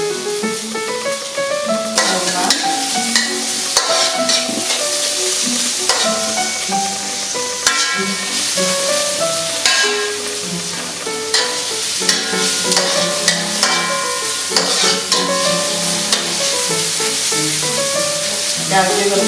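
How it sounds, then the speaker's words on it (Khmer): Garlic and shallots sizzle steadily in a hot pan with pork for a Cambodian salt-fish dish, a continuous close crackle with stirring scrapes. "ហើយខ្ញុំចាប់ដើមដាក់ខ្ទឹមដើម្បីរលាយ ខ្ទឹមសខ្ទឹមក្រហមមកឈ្ងុយ"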